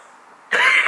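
A single sharp, close cough bursts out after a half-second of faint background hiss, at night in an abandoned town at Fort Ord, Monterey, California.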